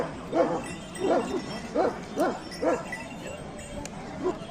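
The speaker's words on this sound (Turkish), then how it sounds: "Boz çoban köpeği yavrularımız yarışıyor arkadaşlar." Several Turkish shepherd dog puppies bark in a loose, repeated series of short yaps, about one per half second, at moderate distance, with a busy outdoor background at a dog competition.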